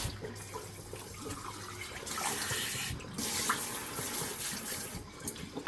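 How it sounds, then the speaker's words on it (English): Tap water runs into a brined Thanksgiving turkey's cavity as it is rinsed, a steady splashing rush that changes pitch as the flow hits the bird, close and fairly loud with short breaks in between. "Make sure you clean out the cavity as well, rinsing that off."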